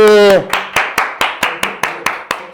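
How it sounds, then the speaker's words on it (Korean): Audience clapping in unison at a fan talk event, about ten sharp, evenly spaced claps close and loud, following a sustained sung or called-out voice at the start. "자, 일단 박수!"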